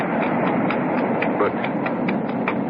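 Horse hooves gallop steadily along an ocean shoreline, a fast and even rhythm of hoofbeats heard close and fairly loud over a constant broad background wash.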